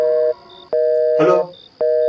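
Telephone call-ended tone: steady tonal beeps that cut off and restart in a repeating pattern, loud and close, with a brief burst of voice in the middle gap.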